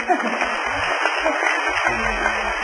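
An audience applauds a 92-year-old woman at a senior graduation ceremony in Mong Kok, a steady wash of clapping heard through a boxy, radio-like recording with someone talking over it.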